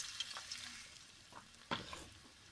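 Gram-flour pakoras of cabbage, spinach and coriander frying in oil, a faint steady sizzle with a few soft crackles and a sharper burst as batter drops in.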